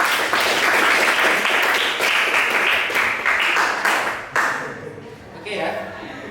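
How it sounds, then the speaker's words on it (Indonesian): Students in a classroom give a loud round of clapping that runs dense for about four seconds, then thins and fades into scattered claps and room noise. "Tepuk tangan buat"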